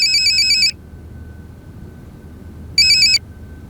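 A mobile phone ringtone plays a bright electronic tone for under a second, falls silent over a faint low hum, then sounds again in a short burst.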